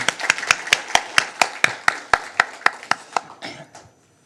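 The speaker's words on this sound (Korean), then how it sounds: "우리 하나님께 영광의 박수를 한번 올립시다." Church congregation claps in unison during a Christmas Sunday morning service, about fifteen sharp, evenly spaced claps that thin out and fade near the end, with no voices over them.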